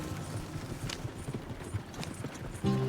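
Horse hooves clip-clop steadily at a walking pace in the Red Dead Redemption 2 video game, close and moderately loud over a low outdoor ambience, with a louder thump near the end.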